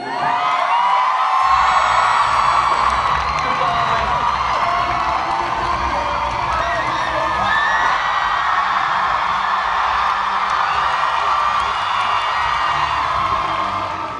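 Loud Comic-Con convention crowd cheers, whoops and screams continuously, a dense roar filling the hall from start to finish with no pause.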